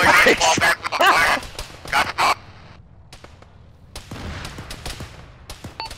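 Rapid rifle shots crack in quick bursts during an Arma firefight with the ShackTac group, loud and close at first, then sparser distant pops, with a voice shouting over the early volley.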